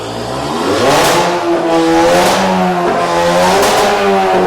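An Audi A3 engine with a downpipe and dual Warex exhaust, valves open, revs hard through a loud, open exhaust, rising and falling in several throaty bursts, close by.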